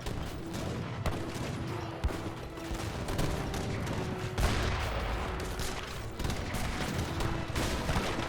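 Dense battle din from Age of Empires 3, a steady barrage of overlapping gunfire and artillery booms, including Sebastopol Mortar and Falconet shots, rumbling continuously at fairly loud level with no talk.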